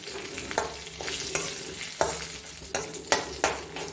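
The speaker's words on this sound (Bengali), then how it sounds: "আমার এবার ফোড়নটা ভাজা ভাজা হয়ে এসছে" Cumin and turmeric tempering fries in a little oil, a steady sizzle broken every half second or so by sharp scrapes and knocks of a spoon stirring against the pan.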